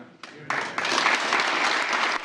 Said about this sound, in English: Biden's speech received rapturous applause from lawmakers.